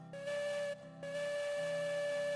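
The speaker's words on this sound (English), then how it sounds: "Can you hear my whistle from there?" Steam locomotive whistle in the train game Railroads Online, a sustained tonal blast with a brief break partway through, loud and close over a low rumbling engine bed.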